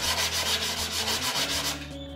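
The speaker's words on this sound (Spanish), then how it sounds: "para quitar todo el excedente y el pegamento que se va saliendo de la pieza" Close, rhythmic scraping strokes rasp back and forth along a melamine panel's edge banding, removing excess glue, about eight passes in a row, over a low steady hum.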